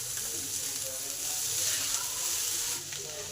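Onion stalks (peyaj koli) frying in a pan with a little oil for a mashed vorta dish, giving a steady close sizzle and hiss throughout with faint background murmur.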